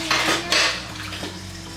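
Dishes clatter as a kitchen dish rack is emptied and the sink cleaned, two sharp clanks of crockery and utensils close by, then a softer knock, with no talking.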